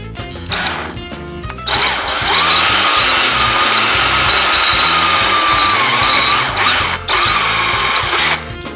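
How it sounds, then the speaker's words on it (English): A power drill whirs close up in several bursts, drilling partway into a boat transom with wood inside: a short run, then a long sustained drilling with a high whine, a brief pause, and another burst. "Just drill it partially because there's wood in the transom here."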